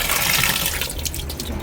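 A washing machine under repair fills with water in a steady, close rushing hiss that runs unbroken throughout.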